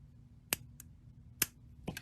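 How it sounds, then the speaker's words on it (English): Scissors snip through bead strands sharply three or four times, short crisp clicks separated by quiet pauses, close to the listener. "we're not gonna use that, we're gonna use scissors"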